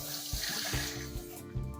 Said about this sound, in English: I'm just gonna go ahead and add about 2 more cups of water